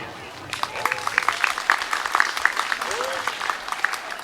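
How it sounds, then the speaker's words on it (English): Audience at a high school band information night gives a short, scattered round of clapping, individual claps fairly distinct and moderately close, with some talking mixed in. "If you just give me a quick round of applause."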